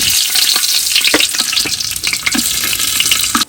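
Cashews and raisins frying in ghee in a pan on the stove, a loud, steady crackling sizzle with occasional stirring scrapes, close and without talk.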